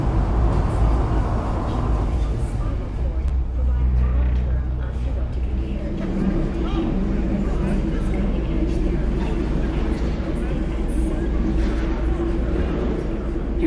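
A constant deep rumble and rushing noise of an NCART train carriage in motion on Line D in Cyberpunk 2077, even and loud throughout, with a muffled announcement voice early on.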